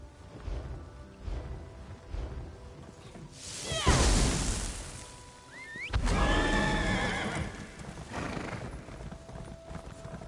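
A horse ridden in the video game The Elder Scrolls Online: hooves clip-clop steadily throughout, broken by two loud neighs with whooshing swells, all fairly close and with no talking.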